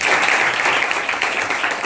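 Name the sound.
audience applause welcoming a girl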